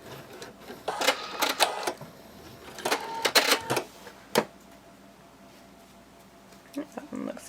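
Home sewing machine stitching fabric for a bunny plush, running in several short bursts of rapid mechanical clatter separated by pauses, close and moderately loud, with faint quiet background between runs.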